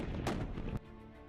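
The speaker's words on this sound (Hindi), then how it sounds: "चंद सेकंड्स में इसमें गोले भरे और दागे जा सकते।" A single sharp, booming report from an M777 howitzer firing a shell, loud and abrupt, followed by a quieter decaying tail.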